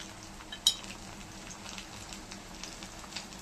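Mango pieces fry gently with mustard in a pan, giving a faint, steady sizzle with one light utensil clink near the start.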